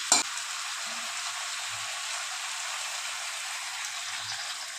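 Marinated chicken simmers in a pan as about 600 grams of hot water goes in, a soft, steady sizzle and bubbling with a brief splash at the start and no talk.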